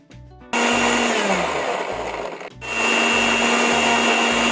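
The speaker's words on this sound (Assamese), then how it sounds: "এতিয়া মই এইখিনি গ্ৰাইণ্ড কৰি ল'ম।" A mixer grinder blending mango pieces with water for Assamese mango juice roars loudly close up after a faint start, drops briefly midway, then surges back to a full steady whine.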